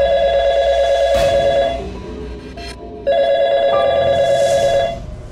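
A telephone ringing in a dramatized household scene, two long electronic ring bursts separated by a brief pause, loud and close.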